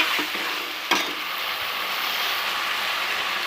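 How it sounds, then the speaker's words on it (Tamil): Tomatoes sautéing in a pan for thakkali egg shor, with a steady close sizzle, a couple of sharp utensil knocks and stirring scrapes, no voices. "தக்காளியும் அதிலே போட்டு நல்லா வதக்கிடணும்"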